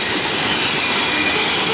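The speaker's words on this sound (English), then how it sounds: "that was the end of a very long coal train here at bridge number 5." A long, loaded Norfolk Southern coal train rolls past a bridge, its cars rumbling steadily with faint wheel squeal throughout, loud and close with no pauses.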